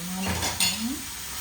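Green onions stirred into ground beef and pork frying in a pan, with a soft sizzle under a few scraping strokes and a sharp utensil clink against the pan, close by.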